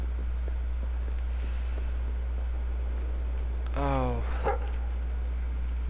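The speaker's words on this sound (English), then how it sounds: "the dog keeps barking every time I come to a treasure chest" A dog in the video game Fable 3 gives a short burst of a few quick barks partway through, over a constant low hum and faint game ambience.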